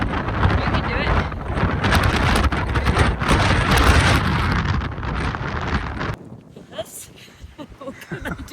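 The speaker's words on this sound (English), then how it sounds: "It's so windy out there." Strong wind buffets the microphone on the rim of the Quilotoa volcanic crater, a loud, roaring rumble that suddenly drops away to quieter gusts near the end.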